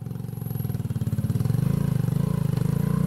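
A motorcycle engine throbbing close by on a rough riverside road in Norzagaray, Bulacan, during a bicycle ride, a loud, steady pulsing rumble that grows stronger as it nears.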